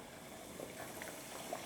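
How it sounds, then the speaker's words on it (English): Breaded pork cutlet for tonkatsu fried in a small pan of hot oil, giving a steady, fairly quiet bubbling sizzle with faint crackles throughout and no talking. "I will start to put the pork cutlet in."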